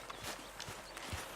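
Horse hooves clip-clopping at a walk in the video game Red Dead Redemption 2, a few soft, uneven thuds under steady faint background ambience.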